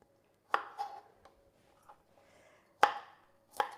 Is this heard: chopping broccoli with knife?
yes